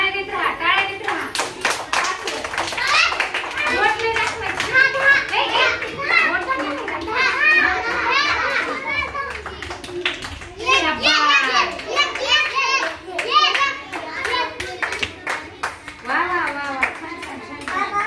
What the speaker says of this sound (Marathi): छान टाळ्या देत राहा, टाळ्या देत राहा